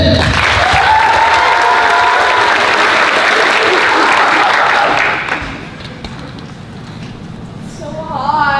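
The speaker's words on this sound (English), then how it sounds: "Let's clap them in." Audience clapping performers onto the stage at a youth performance event, loud sustained applause with cheers that fades after about five seconds, and voices speaking near the end.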